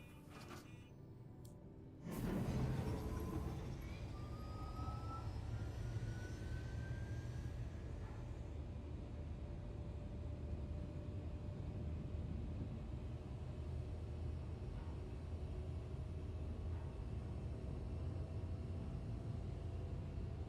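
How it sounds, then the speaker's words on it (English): A shuttle departs in the Star Citizen game world: after a sharp onset, a steady low engine rumble and hum builds and holds throughout, loud and continuous with faint tonal whines above it, no talking. "The shuttle is preparing to depart."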